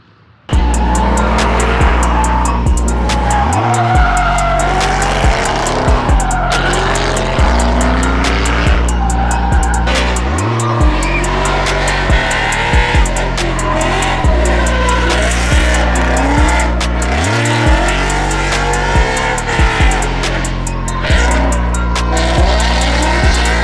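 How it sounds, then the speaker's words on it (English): Drift cars sliding on a wet track in the rain at a spring drift event, engines revving hard and dropping in repeated cycles while tires squeal and skid, loud and close with no break. "This was actually my first time ever drifting in the rain."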